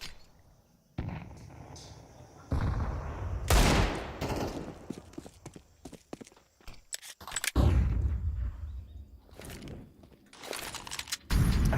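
Desert Eagle pistol shots ring out during a professional Counter-Strike match at IEM Cologne 2024, with loud single shots and bursts of gunfire mixed with grenade blasts and game effects, recurring and irregular over the whole stretch.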